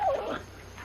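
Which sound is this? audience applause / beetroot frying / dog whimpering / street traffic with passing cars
dog whimpering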